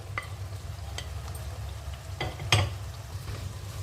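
Cooked rice is stirred into a fried green coriander paste in a pan, with a soft continuous sizzle and a few scraping clinks of a spoon, one louder knock near the middle; no one speaks.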